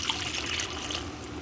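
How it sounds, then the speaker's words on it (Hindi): Water poured steadily into a pot holding a kilo of rice for Mexican rice, a continuous close trickling splash with no speech over it. "अब मैं इसमें पानी शामिल कर दूँगी।"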